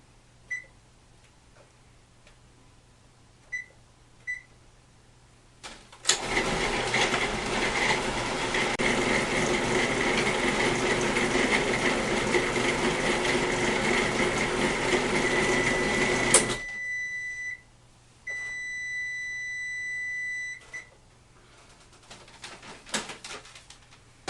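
Bread dough churns in a kneading machine, a steady loud whirring roar running about ten seconds, followed by a series of high electronic timer beeps, first single chirps then a longer repeated beeping.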